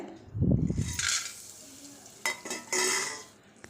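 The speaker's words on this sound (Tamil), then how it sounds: "இதே நெய்யில் திராட்சையும் வறுத்துக்கலாங்க" Raisins frying in ghee for javvarisi semiya payasam give short bursts of crackling sizzle, with a soft clatter of utensils between them.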